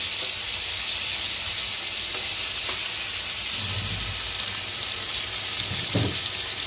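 Prawns frying in hot oil as curry leaves go in, a loud continuous close sizzle and hiss with a couple of brief low thumps from stirring.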